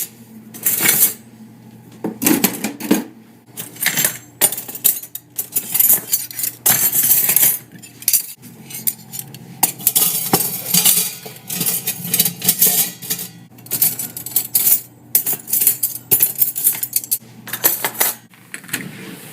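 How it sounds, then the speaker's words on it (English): Silverware is sorted out of a dishwasher basket onto a kitchen counter, giving near, continuous metallic clinks and rattles in uneven bursts, with knives, forks and spoons clattering against each other and against dishes. "Took out the little silverware part and I just put it on the counter because it's so much easier because knives go here."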